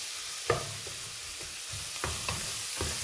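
Shrimp heads being stirred in a pot for bisque, a constant soft sizzle broken by several scraping, knocking strokes of a spoon against the pot, close and without talk.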